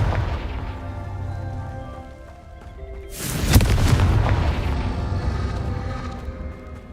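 A Confringo spell blast in the Hogwarts Legacy video game: after a quieter low rumble, a sudden loud boom bursts out and rolls on as a sustained rumbling roar that slowly fades, with no voices.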